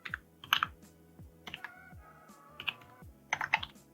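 Code is typed on a computer keyboard, with quick bursts of close, crisp key clicks separated by brief pauses, in a quiet room with no talking.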